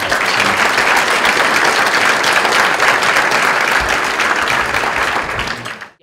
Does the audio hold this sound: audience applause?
yes